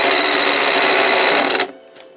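A Westinghouse model ALB sewing machine with a fault runs at a fast, rattling clip for under two seconds, then stops, leaving a faint click afterward.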